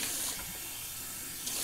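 Water running from a faucet into a bathroom sink, a steady close hiss and splash that holds evenly for the whole moment with no talking.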